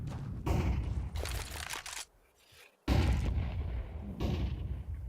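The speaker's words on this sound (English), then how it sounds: "That's a nice flashbang." A flashbang grenade bursts during a Counter-Strike match, a loud, sharp blast followed by a short near-silent gap, then more loud bursts and gunfire-like bangs.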